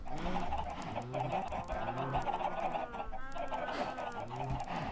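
Chickens in a video game cluck and honk in repeated short, rising calls, a moderately faint flock clucking steadily throughout.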